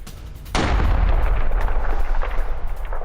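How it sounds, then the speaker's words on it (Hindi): A sudden loud blast erupts at a bread factory struck in a Russian attack in Kupyansk, Ukraine, followed by a sustained roaring rumble of fire that stays heavy and close. "बड़ा ब्लास्ट हुआ है इस फैक्ट्री में"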